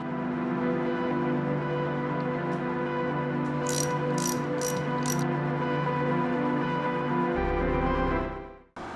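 Ratchet clicking steadily as valve cover bolts are run in on a forged 6.0 LY6 LS engine on a stand, a continuous close mechanical whirr with a few brighter metallic clicks midway, no talking.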